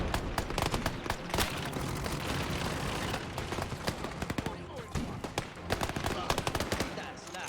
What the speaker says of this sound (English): They're shooting our ass from behind, dude. With a pistol, I think.